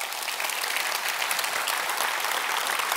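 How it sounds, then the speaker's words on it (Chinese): A live audience claps steadily through a corporate presentation introducing Atomy in Malaysia, the dense, even applause staying loud and continuous without pause. "掌声响起吧"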